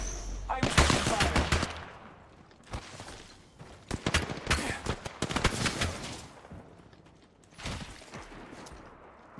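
Gunfire in an Apex Legends match, several loud bursts of automatic shots with gaps between them and a final burst near the end, with game voice lines at points.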